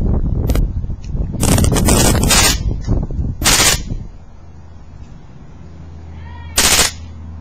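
A Beretta M9 pistol fires in quick automatic bursts outdoors, loud clustered shots with a few separated pops, wind rumbling between them.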